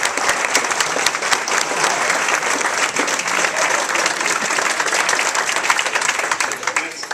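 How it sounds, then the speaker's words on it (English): Audience at an annual peace breakfast gathering gives sustained applause, dense steady clapping from a large crowd filling the room for several seconds, loud and even throughout. "Give yourselves a round of applause."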